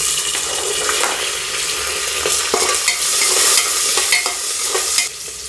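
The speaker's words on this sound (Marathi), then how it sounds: "कढीपत्ता टाकून घेऊ ओके कांदा टाकून घेऊ" Onion dropped into hot oil tempered with curry leaves for moong dal khichdi: a loud, close, continuous fry and hiss with repeated scraping stirs of a spoon in the pan, easing slightly at the end.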